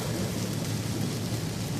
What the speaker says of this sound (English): it's been raining like this for 5 hours.